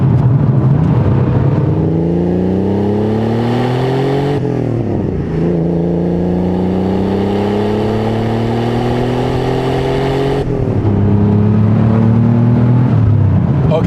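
A 1987 Porsche 930 Turbo accelerates hard in third gear, loud engine pitch climbing steadily through long pulls, with brief dips where revs drop before rising again, no talk over it.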